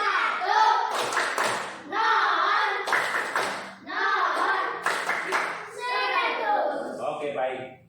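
A group of children claps the rhythmic 'tepuk 100' cheer in a classroom, with bursts of patterned clapping under chanting voices.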